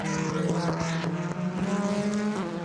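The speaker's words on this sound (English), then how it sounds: "Augusto Farfus in the BMW, weaving from side to side to generate the temperature into those tyres" A BMW DTM touring car circles the track at Zandvoort during qualifying, its engine a loud, continuous roar with rising and falling revs as it weaves from side to side to warm its tyres.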